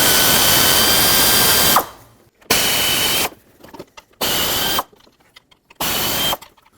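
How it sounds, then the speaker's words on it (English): An air ratchet loosens bolts on a 1998–2011 Ford Ranger with the 4.0L V6. Four loud, close bursts of high whirring are each cut off by short pauses, and no one speaks. "I'm just going to use an air ratchet."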